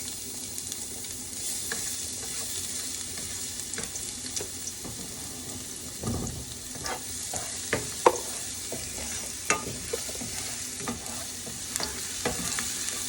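Garlic sizzles steadily in hot oil for chop suey, with repeated clinks and scrapes of a utensil stirring the pan. No one speaks.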